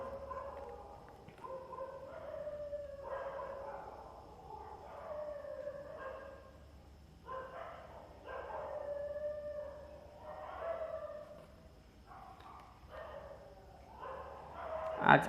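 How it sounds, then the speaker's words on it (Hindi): Several dogs bark and howl at a moderate distance, with long wavering howls rising and falling in overlapping bursts that repeat steadily through the stretch, and no voices are heard. "तो भौंकने के उनके अपने कारण होते हैं, तो इससे डिस्टर्ब आप लोग ना हों।"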